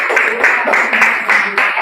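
Classroom applause during an Islamic religious education lesson at a school, a steady patter of many hands clapping together for a couple of seconds at close range.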